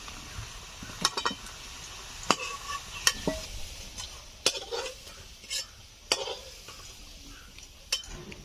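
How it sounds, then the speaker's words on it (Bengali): Chicken and vegetables for a curry lightly frying in hot oil in a pan, a faint steady sizzle beneath sharp intermittent clinks and scrapes of a spatula against the pan. "হালকা করে একটু ভেজে তুলে নেব।"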